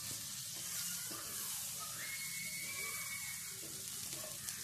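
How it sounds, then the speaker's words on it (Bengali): Butter melts and sizzles in a pan before boiled radish greens go in, a faint, steady hiss of frying heard close up with a few light clinks and no talking. "এখন আমি ভালো করে ফ্রাই করব"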